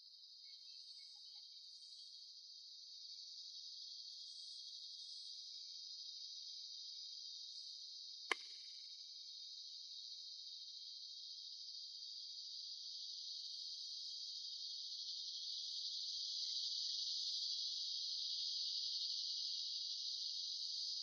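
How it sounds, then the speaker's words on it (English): Crickets chirping at Montezuma Well near Sedona: a dense, continuous high-pitched trill that runs throughout and grows slightly louder, broken by one brief sharp click partway through. "If you listen close, you can hear some really obnoxious cricket sounds."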